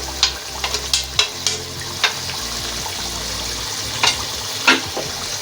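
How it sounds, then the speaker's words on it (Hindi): Masala fries over high heat in a karahi while being stirred, giving a continuous sizzle punctuated by sharp scraping clacks of the spoon against the pan every second or so. "अच्छी तरह से चला लें, मिक्स कर लें मसाला। तेज आंच पे बनानी है फ्राई"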